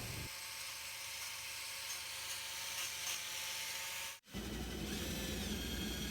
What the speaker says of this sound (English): That big drill bit makes the coolest walnut drill shavings.